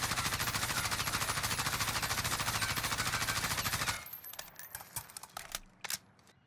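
A gun loaded with stopping power rounds in Warzone fires a sustained, rapid automatic burst for several seconds, then stops abruptly, leaving scattered metallic clinks and small rattles.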